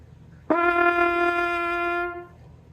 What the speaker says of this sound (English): Immediately, the horn is more brilliant